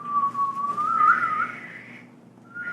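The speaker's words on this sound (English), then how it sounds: "I've been trying to whistle." One person whistles a single wavering note, sliding slightly up and down. It breaks off briefly and then returns, close and moderately loud against a quiet background.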